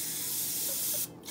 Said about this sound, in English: I'm going to spray a little bit more cooking spray on the top just to get them a little bit crispier.